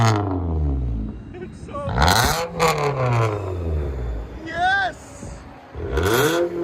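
A 2016 Nissan Altima 2.5L with a straight-piped dual exhaust revs up and down in sweeping bursts, loud and close, while people talk and exclaim between the revs.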